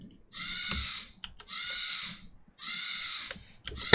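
A pet bird screams loudly and harshly in three sustained bursts that are close to the microphone. Keyboard clicks can be heard between the screams.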